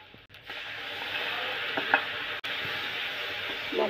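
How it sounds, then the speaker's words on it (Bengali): Potatoes fry in a pan as spices go in: a steady, close sizzle with scraping stirs and a couple of brief clunks, no talking. "আলু ভাজা হয়েছে, এখন আমি মশলা দিয়ে দেব।"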